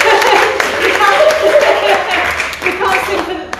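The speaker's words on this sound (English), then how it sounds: "I think we should give them a round of applause" Congregation at a harvest festival service in Clowne Parish Church breaks into close, lively clapping with some chuckling and a voice talking over it.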